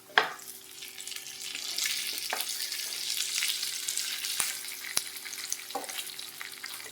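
Fried paneer pieces sizzle and hiss in a pan along with a spice mixture, a steady close frying crackle broken by a few sharp clinks of a spoon against the pan, with no voices.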